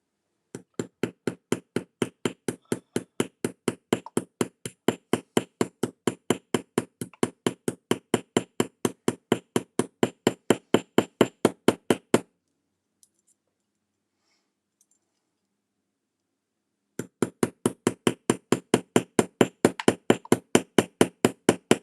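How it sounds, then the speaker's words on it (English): Small hammer tapping a rivet while making jewelry with a shell piece, a long run of quick, even, sharp metallic taps, a pause of a few seconds, then another steady run of taps, close and crisp. "And then you take your little hammer,"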